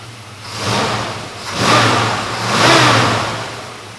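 A 1966 Ford Mustang engine idling close by with a steady low rumble, revved twice in smooth swells that rise and fall back to idle.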